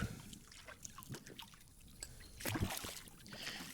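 Scattered splashes and churning water bursts at close range as fish attack feed at the surface, irregular and sharp, with a louder flurry of thrashing near the end.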